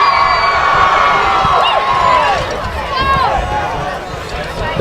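A large crowd cheers and shouts at a Friday-evening high school soccer rivalry game between Grosse Pointe South and Grosse Pointe North, a dense, steady roar with whoops and children's yells, with play-by-play commentary running over it.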